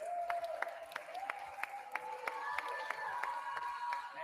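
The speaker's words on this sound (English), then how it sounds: "Clap it up for her." An audience at a fencing event claps for a finalist in fairly faint, steady applause heard from a distance, with a sustained tonal hum running underneath.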